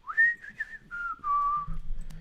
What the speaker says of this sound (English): He's whistling now.